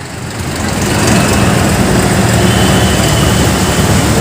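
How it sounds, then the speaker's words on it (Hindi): A large group of tractors at a farmers' tractor rally protesting three farm laws, producing a loud, continuous, close engine rumble that swells in and then holds steady without talk. "अब ये देखिए अच्छी खासी संख्या में यहाँ ट्रैक्टर हैं और ये लोग रैली निकाल रहे हैं"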